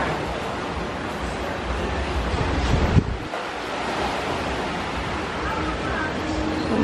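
Ocean waves wash onto a beach in Jamaica beside a seaside restaurant, a steady broadband roar of surf with wind buffeting the microphone and a brief heavier surge midway.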